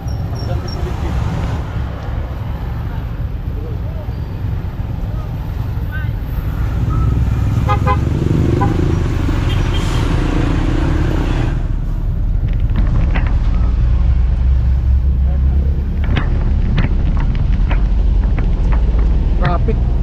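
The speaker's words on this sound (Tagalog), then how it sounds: "Traffic." Road traffic crawls through Saturday evening rush hour in the rain, with engines droning steadily and short car-horn toots sounding now and then, while people talk close by.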